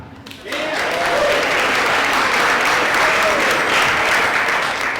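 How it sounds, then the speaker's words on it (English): Audience applause at a bike network storytelling event, bursting in after a brief lull and continuing as loud, dense clapping from a close crowd. "Just clap."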